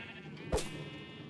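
Single short sheep bleat from a Minecraft wool farm, faint and brief over a quiet humming background.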